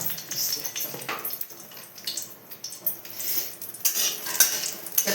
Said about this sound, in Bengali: আমি আগে প্রথমে দুটো শুকনো লঙ্কা ভেজে তুলে নেবো